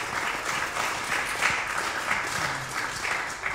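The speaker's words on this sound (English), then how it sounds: "after we give another round of applause" An audience at a talk on plants of Maine's offshore islands applauds, steady sustained clapping from a crowd at moderate distance, no voices.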